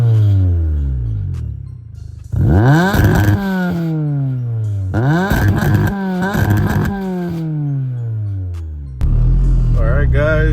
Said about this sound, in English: All right, now we're gonna do the two-step.